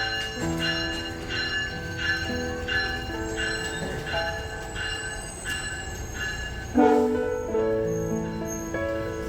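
Steady rhythmic tones and rumble of a train, with repeated pulsing chimes or bell-like signals and a louder burst near the end.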